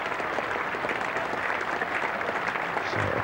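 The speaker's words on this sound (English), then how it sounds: "So applause for England." A cricket crowd at Lord's applauds during a 1984 England v Sri Lanka Test match, producing a continuous, distant-sounding wash of clapping with no clear individual claps.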